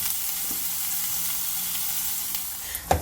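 Grated coconut roasting in a pan gives a steady, close sizzle that holds evenly for the whole stretch, with a couple of soft scrapes near the end.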